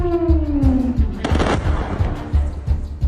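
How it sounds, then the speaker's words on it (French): Repeated booming explosions in Caracas, Venezuela thud at a steady rhythm, with a sharp loud blast in the middle and a descending whistling tone early on. "des explosions secouent Caracas"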